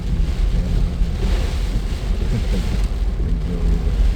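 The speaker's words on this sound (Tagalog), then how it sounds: "Talagang malakas ang ulan. At yung tatak ng ulan. Hangin. Malakas din." Heavy typhoon rain and strong gusting wind batter a car driving through Baguio City under storm signal no. 4, a loud, dense, unbroken roar of rushing air and pelting water.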